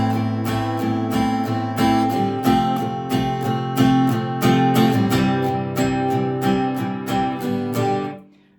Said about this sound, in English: that's where they do this quick little down up strum